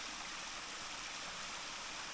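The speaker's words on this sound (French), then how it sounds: "Et regardez la belle cascade." A waterfall at a French château site pours in a steady, broadband rush under light rain, continuous and fairly loud throughout with no voices.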